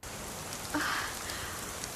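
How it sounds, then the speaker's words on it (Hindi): Continuous rain in the mountains patters and hisses evenly, with a short brighter splash partway through. "वो बारिश हो रही है।"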